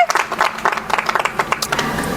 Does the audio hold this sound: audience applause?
yes